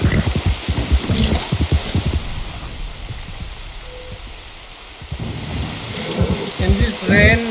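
Rain falls steadily with distant rumbling thunder in the Red Dead Redemption 2 video game during a legendary beaver hunt, a constant wet hiss with low rolling swells, under someone talking at the start and end.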